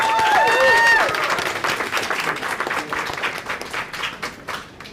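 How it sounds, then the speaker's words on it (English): An audience breaks into applause and cheering, with a few whoops at the start, then the clapping gradually thins and fades. "Give yourself a round of applause for being here."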